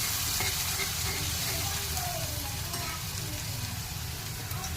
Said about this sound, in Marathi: वाटण. याला मस्त असं घ्यायचं फ्राय करून